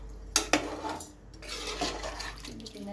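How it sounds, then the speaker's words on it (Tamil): Chicken biryani being stirred in a pot with water and basmati rice, a couple of sharp utensil scrapes and knocks against the pot followed by softer swishing and liquid sloshing, close and moderately loud. "ஆட் பண்ணிட்டு ஒரு கிண்டிக்கோங்க."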